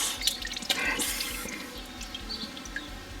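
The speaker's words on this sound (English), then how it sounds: "Well, I'll let that drip. Drain that off." Hot engine oil drips and drains out of a Ford 1.8 TDCi diesel engine during an oil change, a steady patter of close, irregular drops trickling onto a surface with no talk.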